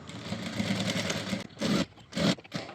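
Stitching a folded blouse hook strip with a half-inch seam allowance, a sewing machine hums in one steady run, then fires two short, sharp bursts close by.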